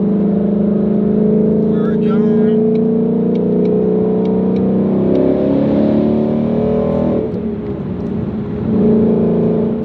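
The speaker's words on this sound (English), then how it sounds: "No matter how many times I drive this car, just the sound it makes, it just never gets old" A car engine hums steadily from inside while driving, rising and falling slightly with the throttle, with faint high ticks over the drone.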